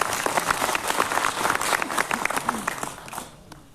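A crowd at a Savitribai Phule birth anniversary gathering claps loudly for Siddharth, dense applause holding strong before tapering off near the end.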